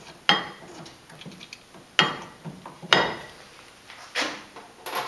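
A ratchet tightening brake caliper bracket bolts during a 13 x 1.25-inch street or track brake system install, heard as sharp clicking bursts spaced about a second apart, close and fairly loud with quiet gaps between.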